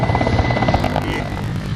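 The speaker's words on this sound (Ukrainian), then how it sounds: "мають, ви бачите, гелікоптери" Military helicopters fly nearby with a loud, continuous rotor and engine roar that throbs steadily throughout, with no voices over it.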